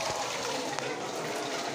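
Water from a household tap in Bulacan gushes out in a steady, hissing rush as the supply comes back, with faint voices in the background.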